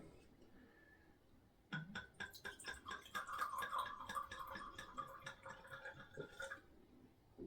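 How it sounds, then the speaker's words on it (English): Hungarian red wine from Szabó Pince pours into a glass, a soft trickling gurgle with a rising fill tone that starts suddenly and runs steadily for several seconds, quiet and close. "let's pour us some wine"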